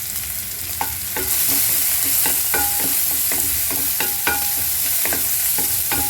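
Onion and garlic, salted with rock salt, sautéing in a hot pan as a spatula clicks and scrapes repeatedly over a constant bright sizzle, close and fairly loud, no voices.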